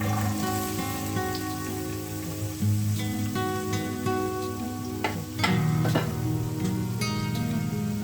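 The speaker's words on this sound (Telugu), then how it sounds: "ఆయిల్ హీట్ అయింది కదా. ఇప్పుడు నేను సన్నగా కట్ చేసి పెట్టుకున్న 3 ఉల్లిపాయలు," Three thinly sliced onions hit hot oil in a pan for a Telangana chicken curry, sizzling steadily and loudly with a sharper crackle as more goes in partway through, no talk.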